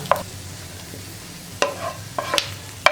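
Coconut pieces fried in ghee are stirred in a pan and added to Kerala parippu payasam, giving a soft sizzle with a few sharp scraping clinks, close and fairly quiet.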